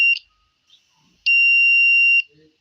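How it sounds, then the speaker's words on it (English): A buzzer driven by a 555 timer circuit sounds in loud, shrill electronic tones: one short blip, then a longer steady buzz of about a second, with near-silence between. "that's just the basic principle of 5 timer in an unstable mode to build and cause a buzzer to buzz intermittently"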